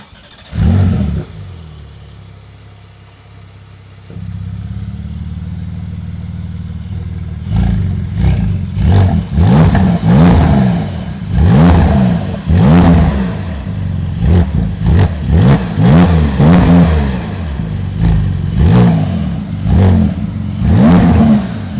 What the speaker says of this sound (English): now we will be experiencing the sound of this Porsche Carrera GTS by TECHART